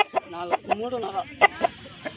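A white rooster at the Pileru Sunday poultry market gives short, clucking calls in quick succession, close and fairly loud, with people talking around it.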